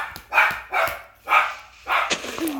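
A dog barks four times in quick succession at close range, sharp, loud yaps spaced about half a second apart, with a faint voice briefly at the end.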